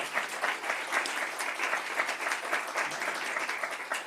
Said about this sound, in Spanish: es un honor que quiero compartir con vosotros con un gran aplauso